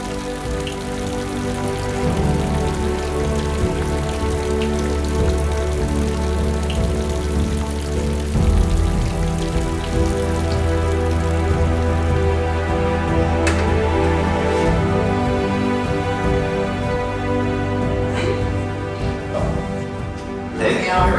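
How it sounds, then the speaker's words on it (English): Light morning rain falls near a river during a striped bass fishing trip, a steady, continuous patter over a sustained tonal backdrop, with a voice present. "Our first morning began with light rain."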